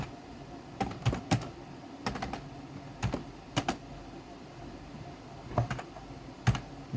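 Code is typed on a computer keyboard in short bursts of crisp, close key clicks separated by brief pauses, the taps irregular and fairly quiet with no talking.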